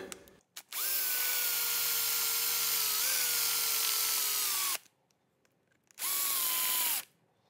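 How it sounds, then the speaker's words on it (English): A power drill with a 3/16 bit whines loudly in a long steady burst drilling out a rivet, dips in pitch briefly, stops, then runs again in a shorter second burst, close up. "Now we're gonna take the 3 16 drill bit and install it in our drill."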